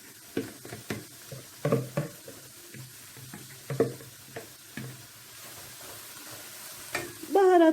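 Thinly chopped leeks sizzle gently in a pan while a utensil scrapes and stirs in several distinct strokes, ending in a louder hiss.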